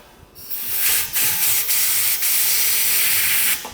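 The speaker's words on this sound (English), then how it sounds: "We'll try running air through it now. I want to blow this through first." Compressed air is blown through the petcock of an old motorcycle that has sat unused for decades, giving several close, loud hissing bursts in quick succession.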